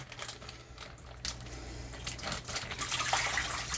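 Rinse water runs and splashes out of hand-washed clothes in a motel room, a soft irregular liquid patter with small surges, rising a little toward the end.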